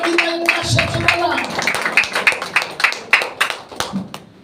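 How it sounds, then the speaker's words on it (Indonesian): Church congregation clapping in praise to Jesus, a run of sharp, fairly regular claps that grow more distinct toward the end, with a voice and tones underneath at the start. "Hallelujah, give Jesus a clap."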